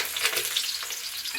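Chopped garlic sizzles and fries in hot oil, a steady close crackling hiss with faint stirring, and no voices.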